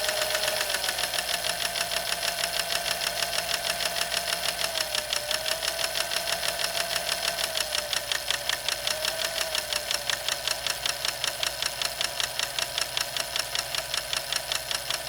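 A sewing machine with a metal-to-metal fault runs continuously with a fast, even mechanical rhythm and a harsh metallic clatter throughout, close and steady.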